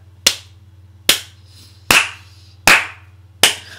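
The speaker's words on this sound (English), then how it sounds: "Can I get a slow clap?" Five slow, evenly spaced hand claps ring out one by one, each sharp and distinct with a short decay, over a faint low hum.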